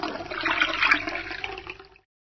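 A toilet flushes with a loud rushing swirl of water that builds, peaks, then tapers off and cuts out after about two seconds, heard alone.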